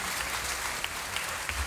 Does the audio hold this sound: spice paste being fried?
no